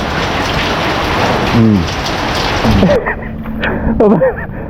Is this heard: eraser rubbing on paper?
no